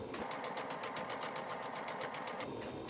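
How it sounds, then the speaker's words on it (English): A sewing machine runs a straight stitch down one side of a fabric face mask, a fast, even, rhythmic chatter of needle strokes heard close and alone, then stopping just before the end. "just a straight stitch, just sewing down one side"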